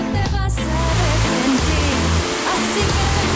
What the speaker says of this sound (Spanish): el sonido estruendoso del agua me, impactó a mí, la verdad